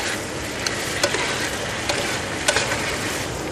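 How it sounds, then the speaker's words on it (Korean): Tteokbokki rice cakes with meat and blanched vegetables are stir-fried in a pan, a dense close sizzle broken by several light scraping and clinking strokes of the utensil, with no voices. "떡볶이를 볶아주시고요"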